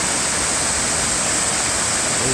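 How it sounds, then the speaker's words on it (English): Laurel Fork Falls on the Appalachian Trail roars as a steady, loud, broadband rush of falling water into a raging river, continuous and close with no voices. "And this is Laurel Fork Falls."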